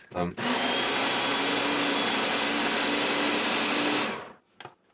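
A Goelunmy blender and food processor whirs loudly and steadily for about four seconds while chopping onion, starting after a brief knock and stopping abruptly, followed by a faint clatter.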